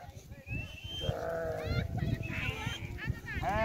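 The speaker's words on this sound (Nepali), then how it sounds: "माथि चढ्न हिँडेको सबै भेडा" A flock of sheep being herded uphill in Nepal bleats repeatedly, several overlapping calls close by, with people talking underneath.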